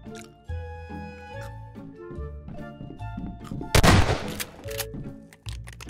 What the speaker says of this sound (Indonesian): Lu kena tembakan peringatan nih.